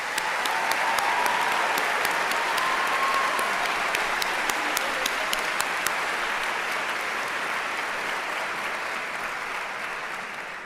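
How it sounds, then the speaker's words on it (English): Audience at a School of Nursing graduation ceremony applauding the faculty, a dense sustained clapping from a large crowd that holds steady for about ten seconds and then slowly fades. "Please, everyone, give a round of applause to our faculty members."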